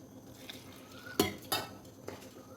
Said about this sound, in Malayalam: ഇനി ഇത് വെള്ളത്തിലേക്ക് ഉപ്പിട്ട് മിക്സ് ചെയ്ത്, അത് നല്ല തിളച്ച വെള്ളമാണ്, മിക്സ് ചെയ്ത് ഇതിലേക്ക് ഒഴിച്ച് നല്ലോണം കുഴച്ചെടുക്കണം.